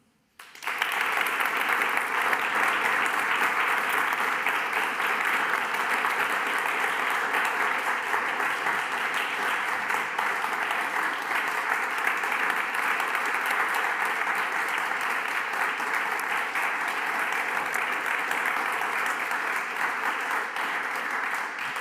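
A large audience applauds in a dense, sustained wash of clapping that starts abruptly and holds steady for over twenty seconds.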